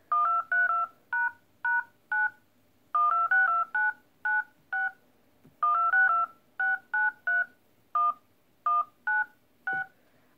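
Phone dial pad keypad tones playing the opening of a song's chorus, a loud, clear run of short two-tone beeps in rhythmic phrases with brief pauses, alone without talk.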